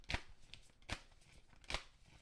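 A deck of tarot cards being shuffled by hand, three sharp riffling snaps spaced under a second apart, close and crisp with no voice over them.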